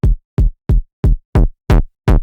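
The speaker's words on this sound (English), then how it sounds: "we would have to distort the shit out of this kick." Seven heavily distorted kick drum hits strike in an even rhythm, each punchy and gritty with a short, crunchy tail, loud and isolated.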